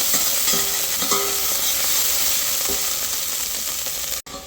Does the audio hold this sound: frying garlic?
yes